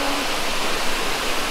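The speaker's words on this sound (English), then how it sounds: "it is a waterfall leading to Wentworth Falls" A waterfall leading to Wentworth Falls in the Blue Mountains gives a steady, close, hissing rush of falling water.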